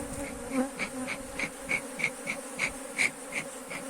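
Honeybees buzz around an open hive as the colony and brood frames are moved into a new box, a dense steady hum with individual bees zipping past close to the microphone in repeated short rises, moderately quiet and with no talk.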